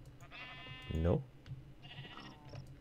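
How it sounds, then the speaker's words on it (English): A blocky sheep bleats in Minecraft, a wavering baa rising out of game ambience, heard once near the middle and faintly again later, with a person speaking briefly over it. "And that's all the sheep we have."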